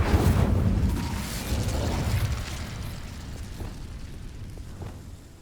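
An Incendio fire spell cast in Hogwarts Legacy bursts out as a loud, close whoosh of flame with a low rumble, then crackles and fades steadily over several seconds.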